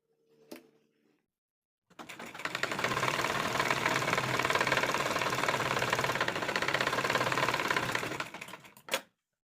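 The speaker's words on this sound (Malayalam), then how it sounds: "ഇനി സെൻറ്ററിൽ നിന്ന് ഓപ്പോസിറ്റ് സൈഡിലേക്ക് തയ്ച്ചു പോവാം കേട്ടോ" Sewing machine stitching fabric for a yoke pleated nighty, a fast rattling run of about seven seconds after a brief click, close and loud, ending with a sharp stop.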